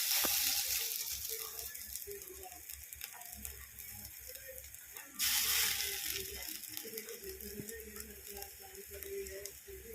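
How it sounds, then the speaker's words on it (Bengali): Mung-free lentil fritters made from masoor dal sizzle in hot oil, a steady frying crackle with scattered pops that swells louder midway, under some background talk. "বাকিগুলো এইভাবে আমি ভেজে নিচ্ছি।"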